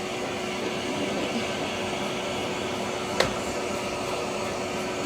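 Dog grooming blow dryer running steadily as it dries a dog's hair, a loud continuous airy whoosh with one brief click partway through.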